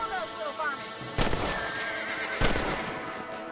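Horses neighing in the Red Dead Redemption video game, a whinny followed by two sharp bursts, likely gunfire or hoof impacts, over game background sound.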